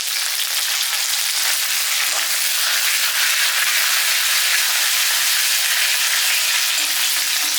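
Garlic and curry leaves frying in hot oil, a loud, continuous, dense crackling sizzle close by, with no talk.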